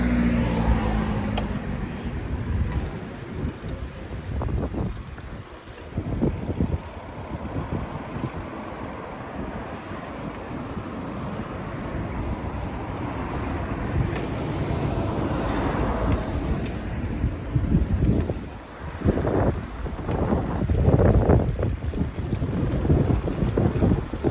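Strong wind buffets the microphone outdoors, a steady roar with louder gusts throughout, no one speaking.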